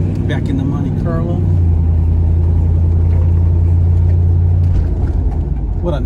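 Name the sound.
1971 Chevrolet Monte Carlo driving on test drive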